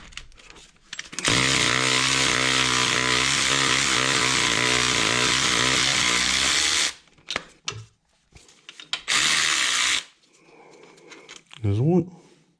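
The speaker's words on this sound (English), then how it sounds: "just remove these other two with the electric ratchet" An electric ratchet whirs loudly for several seconds while removing bolts on an Escort Cosworth engine during cam belt work, then gives a shorter second burst, with brief talk in the gaps.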